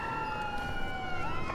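Ambulance siren in the video game Watch Dogs 2, a steady wailing tone held alone across the short clip at moderate level, with no voices over it.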